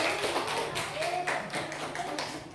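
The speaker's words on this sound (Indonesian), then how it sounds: "Tepuk tangan untuk kelompok dekomposisi." A small group claps briefly, scattered, uneven hand claps mixed with murmuring voices in a room.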